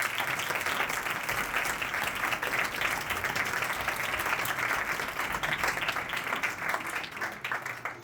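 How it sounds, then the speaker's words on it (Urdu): A church congregation at a Palm Sunday service breaks into loud applause, a dense, continuous roar of clapping that holds steady for several seconds before thinning slightly at the end. "اگر کوئی خوش ہے تو زوردار تالیاں بجائیے"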